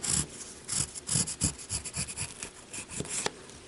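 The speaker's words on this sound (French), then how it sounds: "je vais tracer le même cercle" A marker or pencil scratches and rubs in quick, soft strokes across paper while tracing a blue circle for a clown puppet craft. The strokes are close and quiet, in an uneven rhythm.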